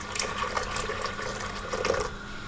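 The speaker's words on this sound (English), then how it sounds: "So I've got some water here. It's already boiled, so I'm just going to pop that in." Already-boiled water pours into a soup pan for a beetroot soup, a continuous splashing stream lasting a couple of seconds, close and steady without talk.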